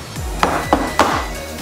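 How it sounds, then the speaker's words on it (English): A metal cake pan filled with carrot cake batter is banged down on a counter three times in quick succession, each a sharp, ringing clank. "We're going to bang the mixture a couple of times to get all the air bubbles out."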